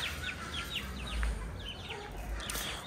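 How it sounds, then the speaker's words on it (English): Parrot Beak Aseel chickens on a farm make scattered faint clucks and short calls against a quiet background, with no talk. "we have even more chickens here"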